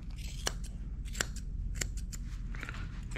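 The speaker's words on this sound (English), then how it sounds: "trim around the feet" Scissors trimming the fur around a Cocker Spaniel's feet, a handful of crisp, close snips spaced irregularly over quiet background noise, with no talking.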